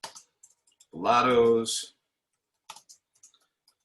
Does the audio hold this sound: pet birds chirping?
no